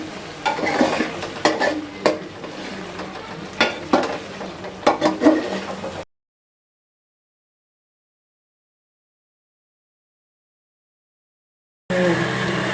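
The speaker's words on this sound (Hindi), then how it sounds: "और अब इसको मिक्स करेंगे। अच्छे से मिक्स कर लेंगे इसको हम।" Butter chicken karhai is stirred and mixed in a pan: sizzling frying under repeated scraping strokes of a utensil for several seconds, then a silent gap before the sizzle returns, with no talk.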